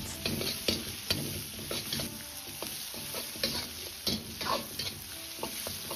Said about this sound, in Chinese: 接着下入控干水分的辣椒一起煸炒